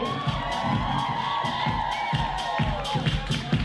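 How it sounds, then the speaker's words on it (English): A ballroom crowd at a Brighton kiki ball cheers and whoops for a judge, a dense roar of voices with scattered shouts throughout, close and loud. "Give my judge a round of applause"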